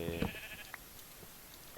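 Minecraft sheep bleating from the video game, a few short nasal bleats early on and another at the very end, over a quiet game background with a faint voice present.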